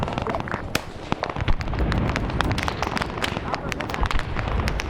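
Artillery shells burst again and again in the Vietnam-era combat game Arma SOG Prairie Fire, sharp loud booms and cracks landing in quick irregular succession over a dense rumbling battlefield din, with a voice briefly audible beneath.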